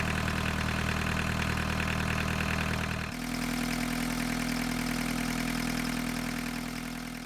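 A 1.6-liter normally aspirated diesel from a 1985 Volkswagen Golf, fitted in a vintage Chevy S10 truck, idling with a steady clattering drone; the tone shifts abruptly partway through, then continues evenly.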